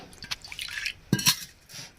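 Water is poured into curd in a kitchen, a few soft splashing and dripping sounds, close and quiet, with brief glassy liquid trickles.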